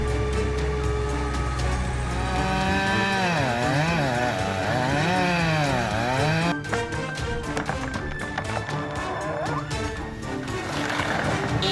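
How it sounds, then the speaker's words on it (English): A handheld chainsaw cuts through a large tree trunk, its engine revving loud and close, swelling and dropping repeatedly under load before settling into a rougher, choppier bite. "The handheld chainsaw started up, the engine roaring powerfully, ready to conquer enormous tree trunks"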